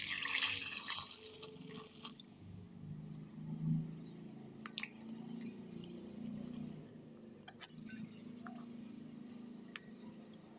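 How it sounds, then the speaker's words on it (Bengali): Oranges being rinsed in water for a second wash: a rush of pouring or splashing water in the first two seconds, then quieter dripping, soft squishy handling and scattered small clicks up close. "এরপর আবারও কমলা লেবুগুলোকে জল দিয়ে ধুয়ে নেব।"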